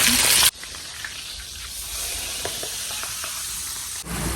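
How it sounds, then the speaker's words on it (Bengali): Fish frying in oil in a pan over a traditional clay stove, a steady sizzling hiss running continuously after a brief louder burst at the start. "এদিকে মাছ ভাজা হইতেছে"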